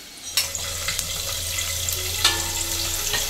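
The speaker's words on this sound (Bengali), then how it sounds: "ঠাকুরের জন্য গরম গরম লুচি ভাজা হচ্ছে" Luchi, puffed flatbread, frying in hot oil for a home Ganesh Chaturthi puja offering. A steady sizzle and bubbling continue throughout, with a few sharper splashes and clinks near the start and midway. No one speaks.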